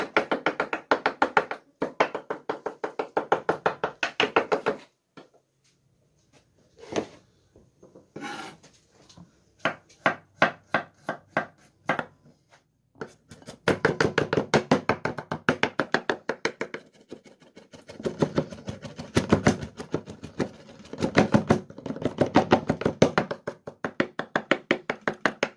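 A knife chops garlic finely on a wooden board, with rapid rhythmic tapping in long bursts broken by short pauses and a few slower separate knocks, close and clear with no talk.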